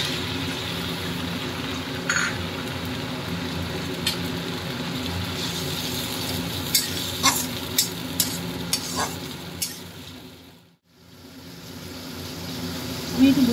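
Ground paste of raw red chili and garlic fries in oil with browned onions, a continuous sizzle under a spatula scraping and several distinct knocks against the pan, then a brief lull before the sizzle returns.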